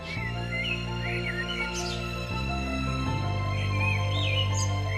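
A cartoon bird in a Hindi moral story chirps in short warbling calls over a sustained musical drone, with a few separate tweets rising above the music.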